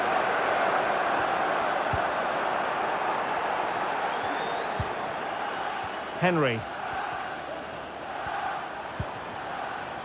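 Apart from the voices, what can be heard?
stadium crowd in EA FC 25 video game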